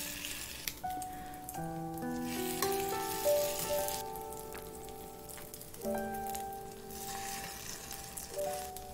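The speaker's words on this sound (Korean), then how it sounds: "가장자리가 약간 익으면 전을 움직여 골고루 익게 하고" A kimchi pancake fries in an oiled pan with a steady, soft crackling sizzle throughout, while gentle background music plays over it.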